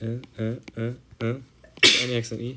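A single sudden sneeze bursts out near the end of a mathematics lecture, loud and breathy, cutting into the lecturer's steady speech.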